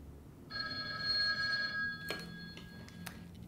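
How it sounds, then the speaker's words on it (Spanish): An old home landline telephone rings with a sustained electronic bell tone lasting over a second, followed by a few sharp clicks, clear and near with no talking. "El teléfono de la casa sonaba más o menos como así."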